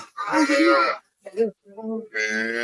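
Cow with her calf at the Aftabganj cattle market in Dinajpur, giving a few low, drawn-out moos close by, broken up by short gaps while people talk around the animals.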